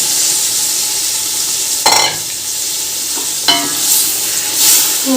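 Tomatoes and potatoes tossed into a hot pan of browned green chilli and garlic, giving a steady high sizzle with two louder bursts of frying as ingredients hit the oil and are stirred, no talking.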